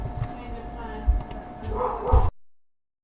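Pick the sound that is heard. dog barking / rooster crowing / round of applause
dog barking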